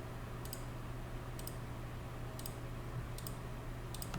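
Faint computer mouse clicks come one at a time, about once per second, as points are picked in CAD software, each a sharp tiny tick over a quiet steady hum.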